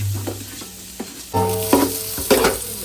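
Sliced onion and green chillies frying in oil make a close, loud sizzle, broken by several sharp clinks and scrapes of a spoon stirring in the pan.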